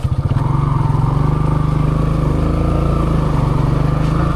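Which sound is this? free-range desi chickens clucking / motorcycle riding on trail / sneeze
motorcycle riding on trail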